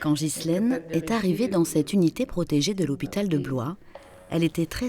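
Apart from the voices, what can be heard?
No distinct noise like a dog, phone or traffic.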